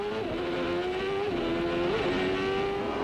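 IndyCar race cars roaring at a green-flag restart of the 1994 CART street race in Vancouver, a loud continuous engine drone with pitch rising and dipping as the pack accelerates.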